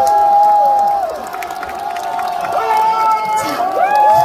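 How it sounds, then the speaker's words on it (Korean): Outdoor lakeside concert crowd cheering and shouting with some clapping, a loud mass of high voices and whoops swelling and dipping over a few seconds. "좋으셨다면 다 같이 박수와 함성!"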